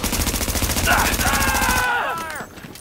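Rapid automatic machine gun fire from The Division, a dense sustained burst for nearly two seconds under shouted voices, then cutting off into a brief ringing tail.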